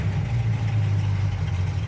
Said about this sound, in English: Idling about 900 RPMs right now.